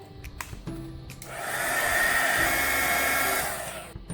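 Heat tool heat-setting ink on a mixed media artist trading card, a loud steady blowing roar that switches on, holds for a couple of seconds, then cuts off, with small handling clicks before and after.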